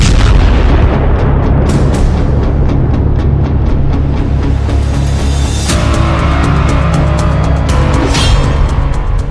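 Iranian missiles striking Nevatim airbase in Israel, heard as a dense barrage of loud booms and sharp bursts that keeps going, with heavier blasts standing out partway through.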